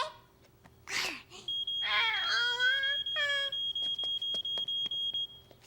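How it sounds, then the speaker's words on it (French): A fire alarm in an animated children's cartoon sounds as a rapid series of sharp, high electronic beeps repeating evenly for several seconds. Childlike voices speak and exclaim over its start. "nous allons réécouter le bruit que fait l'alarme pour pouvoir le reconnaître"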